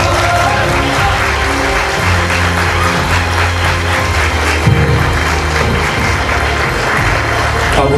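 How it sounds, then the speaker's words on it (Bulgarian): Wedding guests applauding the best man, continuous loud clapping from a crowd over steady background music with sustained low tones, lasting the full stretch without a break. "Аплодисменти за нашия кум с такова наръч"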